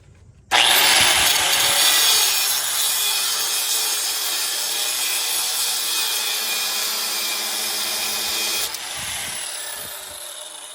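A power tool cuts through a rusted bolt on the exhaust flange of a 2008 Honda CR-V, a loud, steady grinding rasp that starts abruptly and runs continuously for about eight seconds before easing off.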